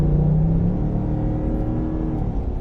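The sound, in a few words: V8 engine of a patrol car accelerating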